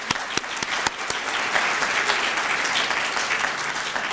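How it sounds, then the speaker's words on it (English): Audience applause at a benefit dinner, a dense steady wash of clapping lasting throughout, with a few sharper individual claps standing out at the start. "I think that deserves a round of applause."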